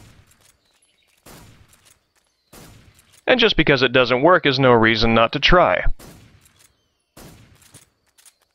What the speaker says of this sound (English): We can try our luck hitting the end with first-person gunshots.